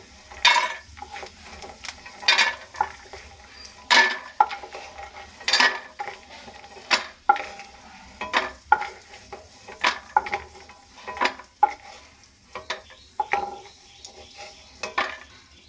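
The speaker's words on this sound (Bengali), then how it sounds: "আরও কিছুক্ষণ ভেজে নেবো এখন বাদামটা আমি তুলে নিচ্ছি" Peanuts frying in a kadai while being stirred with a utensil, giving repeated close clinks and scrapes against the metal in an irregular rhythm over a faint sizzle, with no talking.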